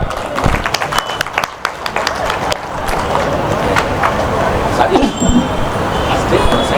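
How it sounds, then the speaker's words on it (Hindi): Audience applause rising to welcome a South Andaman women's coordinator at a Congress committee candle march gathering, a sustained dense wash of clapping and crowd noise filling the whole stretch. "मैं चाहूंगा आप लोग उनके लिए जोरदार ताली से स्वागत कीजिए।"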